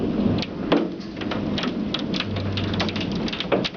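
Golf ball sized hail storm in Calgary with thunder: a dense, steady clatter of hailstones and heavy rain hitting surfaces close by, with occasional sharper impacts and a low rumble of thunder underneath, continuous throughout.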